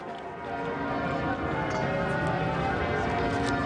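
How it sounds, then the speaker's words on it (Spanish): Church bells ring on and on at a solemn commemoration held with a Royal Air Force band, a dense, continuous peal that stays loud and steady throughout. "Las campanas sonaban a rebato"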